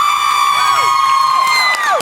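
A studio audience at a Dr. Oz talk show cheers loudly and continuously, with whoops and sliding high whistles rising over the dense crowd roar.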